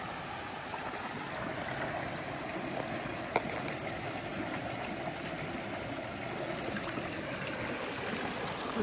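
Steady rushing of a trail stream at a water source on the Appalachian Trail, a continuous broadband flow of water that stays at an even, moderate level throughout, with no talking.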